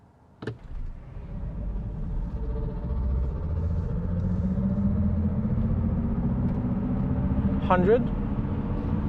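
A 2026 Mercedes CLA electric car in sport mode launches from a standstill, its low rumble and synthetic drive hum swelling steadily as it accelerates, with a short click at the start and a brief chirp near the end.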